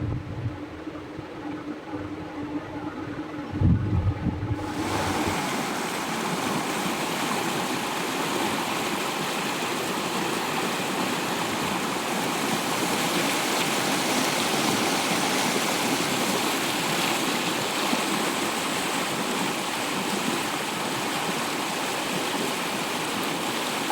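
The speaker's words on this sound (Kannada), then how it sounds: "ಇಂತಹ ಒಂದು ಅದ್ಭುತವಾದಂಥ ನೀರಿನ ಸೆಲೆ ಇರುವಂಥ ಜಾಗದಲ್ಲಿ ನೀವು" Water flowing in a stream on a one-acre plot of green farmland: a steady, loud rushing wash that starts after a quieter opening and continues unbroken, with no voices.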